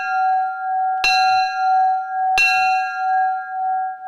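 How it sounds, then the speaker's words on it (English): The Tyee Club bell in Campbell River, rung once for every 10 pounds of a registered Tyee salmon, gives two sharp metallic strikes about a second and a half apart, each leaving a long, steady ringing tone, with no talking. "the only time this bell can be rung is when a Tyee has been registered with the club."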